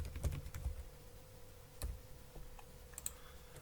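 Typing on a computer keyboard while filling in a name field: scattered close, crisp key taps in small bursts over a faint steady electrical hum.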